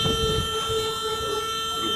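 A loud, sustained horn blares continuously with a steady tone over rumbling traffic noise.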